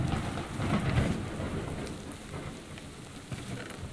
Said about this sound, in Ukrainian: О, і гроза закінчилась.